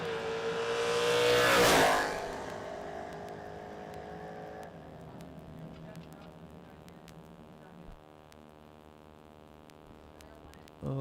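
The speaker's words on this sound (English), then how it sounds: "Wheels up for the Mustang." A Mustang drag race car launches with its front wheels up at a creek drag strip, a loud engine roar that builds and then fades into the distance over about two seconds, followed by quieter ambient crowd and track noise.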